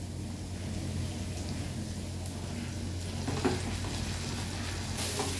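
Chowmein noodles are tossed with vegetables in a hot pan, restaurant style, a dense steady sizzle with faint scraping and a low hum beneath, close and even in level throughout, no talking.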